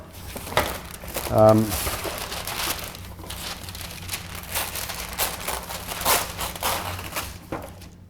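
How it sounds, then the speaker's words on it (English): Parchment paper being handled in a kitchen, giving a burst of crinkling and rustling followed by lighter intermittent crackles, heard close up while someone speaks briefly. "We then take our parchment paper,"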